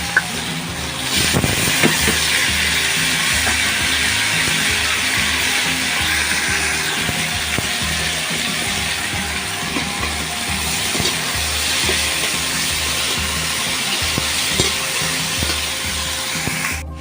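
Bitter gourd fries in a blackened wok, giving a loud, constant sizzle with bursts of crackle and some stirring, close up and without talk.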